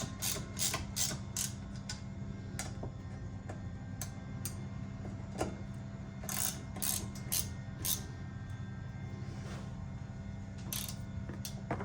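Ratchet tightening a handlebar clamp on a 2014 Suzuki LTZ 400 quad, close and clicking in quick bursts of rapid ticks separated by short pauses, over a faint steady hum.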